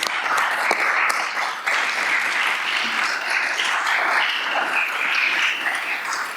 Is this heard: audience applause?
yes